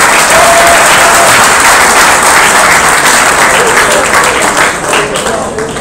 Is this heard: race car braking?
no